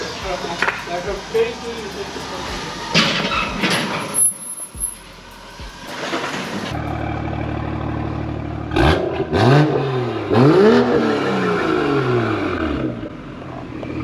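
A car engine with a newly fitted valvetronic exhaust revs hard several times, rising and falling, with mechanical clatter and a deep exhaust rumble; a voice is heard briefly near the start.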